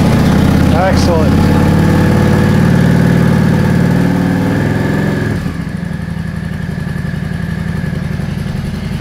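A Yamaha V Star 650 motorcycle engine idles steadily after starting, a loud close rumble with a brief rev early and a slight drop in level midway, with a voice speaking over it.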